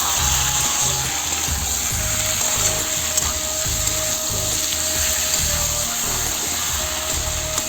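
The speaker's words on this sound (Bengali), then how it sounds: "এই টমাটার দিয়ে দেবো টমাটারটা দিয়ে আর একটু কষাবো যাতে টমাটারটা কষানো হয়ে যায়" Tomato sautéing with jackfruit curry in a pan makes a continuous, close crackling sizzle, broken by the rhythmic scrape and knock of a spoon stirring.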